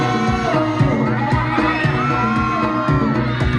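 A crowd at a live rap show in Perdagangan, Siantar, cheers, whoops and shouts continuously and loudly, with voices layered over pulsing music beneath.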